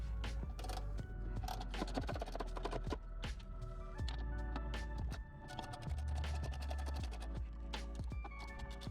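10 mm bolts are backed out with a hand ratchet on a Toyota Tacoma's black box, with repeated quick clicking bursts over a steady low hum, close and fairly loud throughout.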